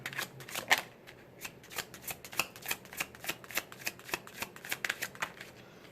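Tarot cards are shuffled in a steady run of crisp riffling slaps and flicks, close and fairly quiet, with no voices.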